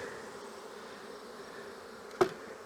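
Tens of thousands of honey bees buzzing in a hive, a continuous mid-pitched drone with a brief louder buzz as one passes close near the end, no talk.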